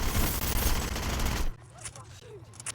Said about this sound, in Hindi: किस पे गोली चला रहा है?